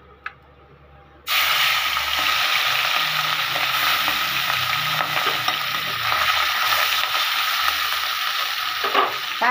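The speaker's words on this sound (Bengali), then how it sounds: "প্রথমে আমি মাছটা ভাজবো" Small tangra fish hit hot oil for a Bengali sour fish curry, bursting into a loud, steady sizzle and crackle that continues throughout after a brief quiet start, with occasional spatters and no talking.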